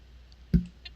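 A single soft click from a computer mouse during a right-click in Second Life, brief and close against a quiet room hum.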